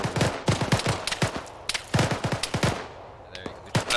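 Rapid bursts of automatic gunfire in the Arma 3 military shooter, sharp repeated cracks in clustered volleys, loud and close, with a brief lull and a few more shots near the end.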